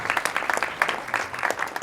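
A church congregation claps loudly in response to a gospel message, producing a brisk burst of many hands with distinct clustered claps and an uneven rhythm, fairly close and unaccompanied by speech.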